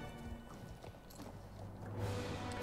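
Horse hooves in the Star Stable riding game: faint, quick clip-clop footfalls of a ridden horse moving straight ahead, set against a low ambient background.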